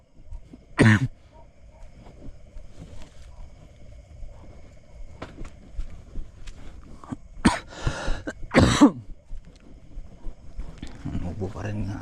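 Several sharp, loud coughs during a string bean and bitter gourd harvest, bursting out in separate fits against quiet outdoor background, with a bit of distant talk.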